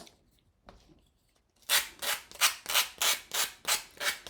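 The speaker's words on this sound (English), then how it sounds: "Let's go ahead and put some new sandpaper on." After a quiet start with a couple of soft touches, thick new 80-grit sandpaper rubs back and forth in about eight evenly spaced, close, fairly loud strokes.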